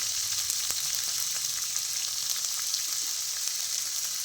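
Onion, tomato and green chili fry in a pan for a fish curry, a steady close sizzle with faint crackles and stirring taps, no voices.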